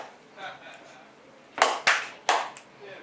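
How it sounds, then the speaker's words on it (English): Band members clap a short rhythm in a casual interview setting: three sharp, loud claps spaced about a third of a second apart, with soft voices murmuring beforehand. "Okay, just the claps."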